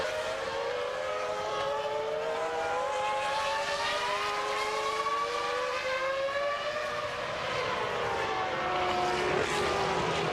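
Formula 1 cars racing at the 2000 Spanish Grand Prix, a continuous high-pitched engine whine with several pitch lines rising and falling together as cars pass, steady and loud, with no talking.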